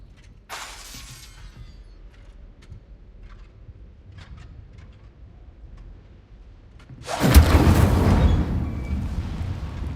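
Incendio fire spell cast in the Hogwarts Legacy video game: a short whoosh early on over quiet ambience, then a loud roaring burst of flame near the end that keeps rumbling to the close.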